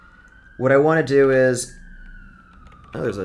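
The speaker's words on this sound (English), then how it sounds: "siren going on outside" A distant siren outside holds a steady, slowly falling tone across the clip, with a voice speaking briefly over it near the start and again at the end.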